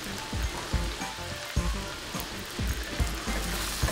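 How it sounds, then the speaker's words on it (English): Cremini mushrooms with thyme, pepper and salt frying in a pan, giving a steady crackling sizzle with scattered pops and a few soft stirring knocks throughout, no voices. "We're going to cook these mushrooms until they start to become softened and translucent."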